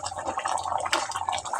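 Chicken curry simmering in a pot, a steady close bubbling and popping with small liquid blips, moderately loud and without talk.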